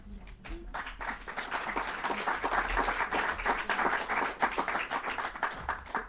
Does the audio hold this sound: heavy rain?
no